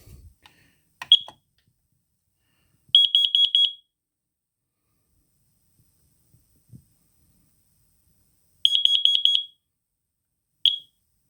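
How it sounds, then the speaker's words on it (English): A carbon monoxide alarm under test emits two bursts of rapid, high-pitched electronic beeps, each about a second long, plus a single short chirp, separated by silence, with clicks as the button is pressed. "This is how you test your carbon monoxide alarm to make sure that it's working."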